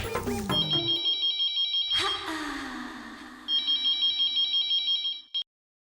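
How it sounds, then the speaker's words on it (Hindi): A telephone bell rings in two bursts of rapid trilling pulses separated by a pause, loud and close, the second burst cutting off abruptly, within an indoor scene from a Hindi TV sitcom. "चलो सबसे पहले ईयर भाई को फोन करके बता देता हूँ"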